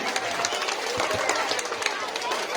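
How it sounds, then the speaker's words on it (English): An audience at a school Teacher's Day celebration gives a teacher steady, dense applause, a continuous wash of many hands clapping with crowd noise throughout. "Put a huge round of applause for Amulya sir"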